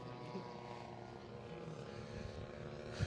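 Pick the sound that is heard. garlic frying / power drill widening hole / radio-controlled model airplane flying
radio-controlled model airplane flying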